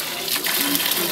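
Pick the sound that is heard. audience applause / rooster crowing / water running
water running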